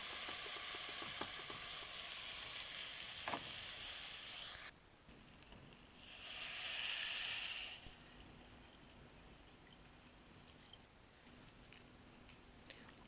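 Washed, drained rice tipped into a pot of fried vermicelli, a loud bright sizzle that cuts off abruptly, then a quieter hiss with a brief swell and soft stirring sounds.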